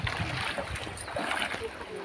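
Steady rushing water of a mountain stream fills the clip, a continuous broadband wash with faint murmurs of voices underneath.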